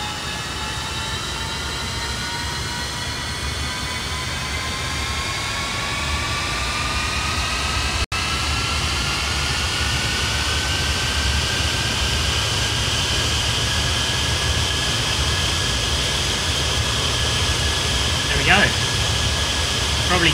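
Jet engines of an Avro Vulcan in a flight simulator spool up, a steady loud roar overlaid by several whining tones that climb slowly in pitch over about twenty seconds, with one brief click midway.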